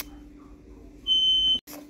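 Home alarm system giving one loud, steady electronic beep that stops abruptly, heard close indoors in a kitchen over low room hum.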